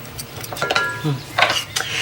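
A salad stirred with cutlery in a bowl, a short run of clinks, taps and scrapes of metal against dish, close and fairly loud.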